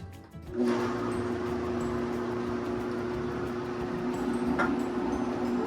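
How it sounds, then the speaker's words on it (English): A blender runs with smoothie ingredients and ice: a steady, close motor whir with a high tonal hum starting after a brief click and continuing evenly, with a faint knock near the end. "Get all your ingredients in the blender. Get this sucker on."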